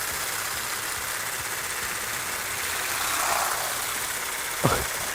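Egg whites and sugar being whisked in a spinning bowl with an electric mixer, a loud steady whirring motor drone that runs throughout, with one brief clatter near the end.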